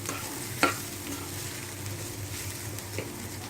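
Vegetable filling for momos sautés in a pan with a steady soft sizzle, one sharp utensil knock early and a fainter scrape near the end, close and quiet, with no talk.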